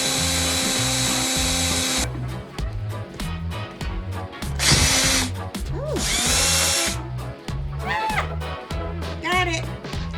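Power drill running a screw extractor from a speed out kit into cabinet screws, a steady loud whine with pulsing low chatter and pitch changes as the bit grabs, with occasional brief squeals near the end.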